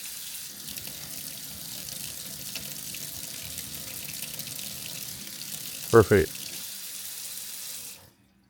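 Water runs steadily from a newly installed one-handed kitchen sink faucet, tested on hot and cold: a continuous hiss and splash into the basin, briefly interrupted by a short spoken word, then cut off sharply as the tap shuts.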